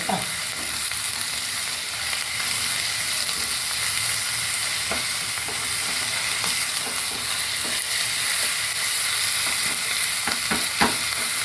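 Ragi flour with a pinch of salt sautéing in a hot pan on a gas stove, a steady broadband sizzle with occasional scraping stir clicks near the end, close and continuous with no talking.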